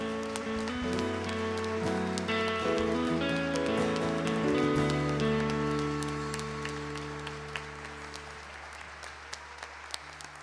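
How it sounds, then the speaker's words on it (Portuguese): A church congregation claps over sustained worship music. The dense applause is strong at first, then thins and fades into scattered claps as the music drops away. "Dá um salva de palmas para Jesus aí."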